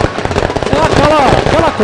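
A rapid, crackling salvo of fireworks goes off at the start of a football match between Águia Negra and SERC. The close, dense bangs run under a commentator's talk.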